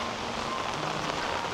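Heavy monsoon rain falls steadily over a Konkan village and its farmland, a dense, even hiss of drops on surfaces with no voices and no breaks across the short stretch.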